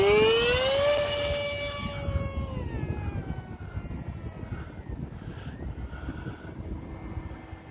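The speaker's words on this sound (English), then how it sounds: "Let's get this AeroScout in the air and see what I can do." A HobbyZone AeroScout RC plane flies outdoors in light wind. Its electric motor whines high at first, then drops in pitch and fades to a fainter drone as it pulls away, with wind rumble and no talk.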